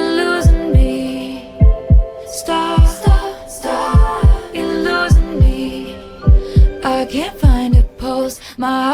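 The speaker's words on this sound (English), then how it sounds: "I like the S1, S2 heart sounds that are basically the beat to this song, right?" Heartbeat S1 and S2 sounds serve as the beat of a song, deep paired thumps repeating steadily under sung melody and sustained tones, loud and up front.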